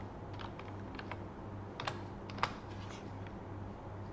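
Fast, light clatter of keys typed on a computer keyboard while a file name is entered, a steady run of soft taps with a couple of sharper strikes, close and quiet with no voices.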